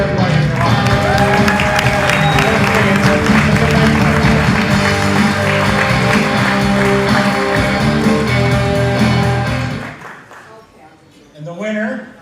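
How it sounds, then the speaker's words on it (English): An awards ceremony audience applauds at the Grow Up cannabis industry awards, loud dense clapping and cheering that runs continuously for about ten seconds before dying away, with music tones layered over it and a brief sound returning at the end. "you guys can applaud for everybody in your life."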